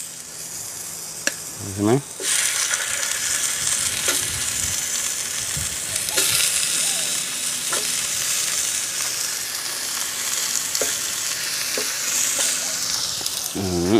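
Onions sizzle and fry in a hot smoking pan beside a Spanish mackerel burger being cooked outdoors, a steady bright crackling hiss that runs throughout with stirring scrapes and a few brief spoken words.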